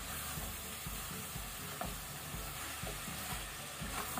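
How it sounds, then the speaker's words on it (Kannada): Mutton masala fries in a pan over medium heat, giving a steady, close sizzle with soft scraping and stirring throughout and no talking. "ಮೀಡಿಯಂ ಹೀಟ್ ಇಟ್ಕೊಂಡು ವಾಪಸ್ ನೀವು 5 ಮಿನಿಟ್ ಹೀಗೇನೆ ಫ್ರೈ ಮಾಡಿ."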